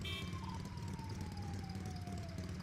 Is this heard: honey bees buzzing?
no